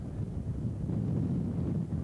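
Strong wind on a hilltop above a river valley, a low buffeting rumble on the microphone that swells and dips without pause.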